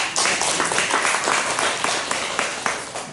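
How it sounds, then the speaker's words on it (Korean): A church congregation at a Sunday worship service applauds together, a dense, steady wash of many hands clapping at close range that carries on without a break. "앞으로 안전하고 건강하시라고 여러분 박수 한번 보내드립니다."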